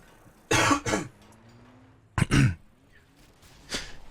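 Two separate coughing bursts, close and fairly loud, with a softer breathy sound near the end and quiet room hiss between them.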